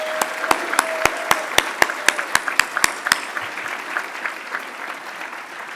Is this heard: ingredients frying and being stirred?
no